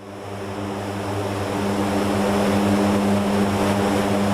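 The propeller engines of a C-130 in the DCS flight simulator drone steadily with a strong tonal hum that swells slightly and then holds loud and constant.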